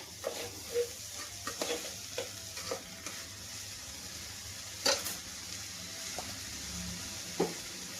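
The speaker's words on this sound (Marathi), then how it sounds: "तेला बरोबर एक दोन मिनिटं हलवून घ्यायचा" Rice sizzling in hot oil while a spoon stirs it for a minute or two before water is added, producing scattered scraping strokes and a couple of sharper clinks against the pan.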